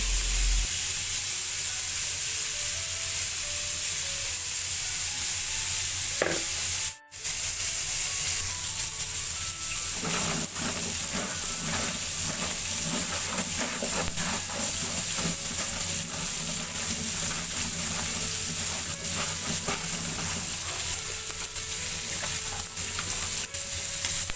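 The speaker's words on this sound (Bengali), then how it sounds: "কই মাছগুলোকে আমি ভালো করে ধুয়ে নিয়েছি এখন তেলের উপরে এই ফ্রাই প্যানটাতেই আমি ভাজতে বসিয়ে দিলাম" Koi fish, washed and set in hot oil in a frying pan, sizzle steadily and loudly throughout, with a brief gap and a few clinks and scrapes of stirring before the frying settles into a continuous crackle.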